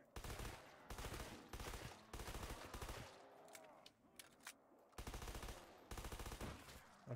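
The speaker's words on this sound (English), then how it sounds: "we can still fire underwater" Automatic gunfire in a Backrooms video game, fired underwater: several sustained bursts of rapid shots separated by short pauses, loud and close, with faint bubbling effects between them.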